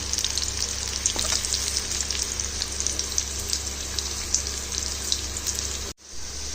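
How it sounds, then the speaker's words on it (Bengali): Potato peels frying in hot oil give a continuous crackling sizzle with fine popping bubbles over a low hum, steady and close until a brief dropout near the end. "আলুর খোসা আমি তেলে সুন্দর করে"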